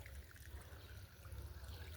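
Water trickles faintly and steadily onto vegetable plants being watered, a quiet continuous dribble with no talk.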